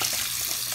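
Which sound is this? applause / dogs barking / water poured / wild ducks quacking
water poured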